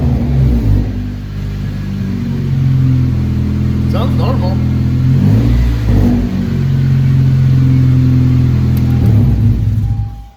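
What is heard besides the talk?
Honda Civic engine revving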